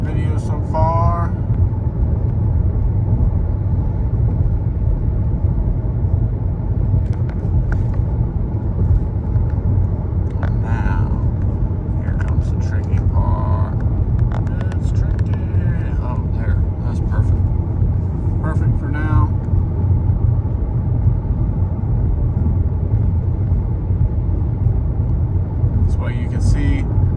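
A 2021 Kia Soul with a manual transmission cruises steadily in sixth gear, with a constant low engine and road rumble filling the cabin throughout while someone talks intermittently over it.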